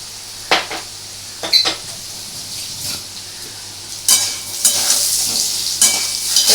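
Potato curry (aloo dum) with nut paste being stirred in a pan: a few spoon scrapes at irregular intervals over a soft, steady sizzle that swells louder toward the end.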